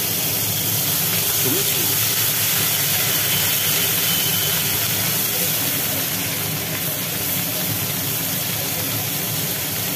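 Nigella seeds and ground cumin paste frying in hot oil, a steady broadband hiss and crackle of sizzling that runs continuously and fairly loud throughout, with faint background voices.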